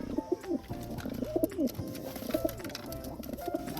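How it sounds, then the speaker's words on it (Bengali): A female pigeon coos close by, giving a series of soft, rhythmic, throaty calls repeated every second or so over quiet background noise. "আর এটার জন্য আমি একটা মাদি পায়রা এনেছি"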